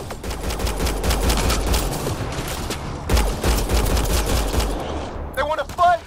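Rapid bursts of gunfire from a firefight in the video game Mass Effect: Andromeda, loud and dense with repeated volleys, briefly pausing midway, then fading into a short voice near the end.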